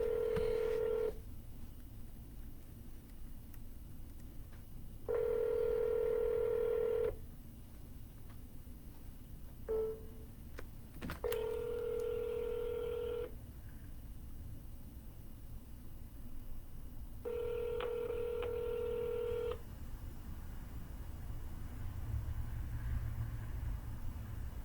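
During a real estate cold call, a phone line plays repeating ringback tones in long evenly spaced bursts over a steady hiss of line noise, and a brief clicking sound follows partway through.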